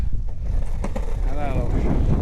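Strong outdoor wind roars across the microphone during skateboard practice, a loud, constant low rumble filling the whole stretch, with a faint voice briefly in the background.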